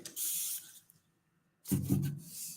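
Two close hissing bursts of paint spray separated by a second of silence, the second burst louder and fuller.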